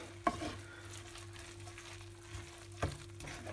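Eggs are stirred into bacalhau à brás, Portuguese salt cod with potatoes, in a pan with the gas just turned off, giving a soft sizzle under two sharp utensil knocks against the pan.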